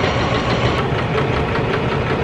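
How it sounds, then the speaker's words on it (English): A sewing machine stitching apron straps, a dense continuous mechanical whir with a rapid even rhythm, loud and close, running without a break. "I finished sewing the straps"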